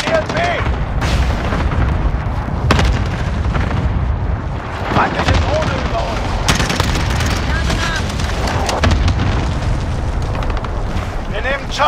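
Airstrike explosions in Call of Duty: Modern Warfare (2019) land as loud booms amid bursts of gunfire, while voices call out over the continuous roar of battle.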